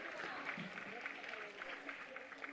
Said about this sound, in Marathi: गार्गी विशाल काळे यांच्यासाठी जोरदार टाळ्या होऊन जाऊ देत मंडळी.